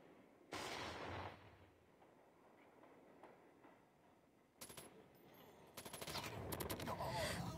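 A PDW submachine gun fires in a Call of Duty Mobile ranked match: a short burst early on, then quieter game noise, then rapid bursts of automatic fire building toward the end, with faint background sound.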